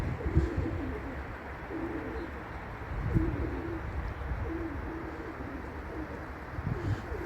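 Pigeons coo softly in repeated low, throaty calls over a steady outdoor hiss, a few birds nearby.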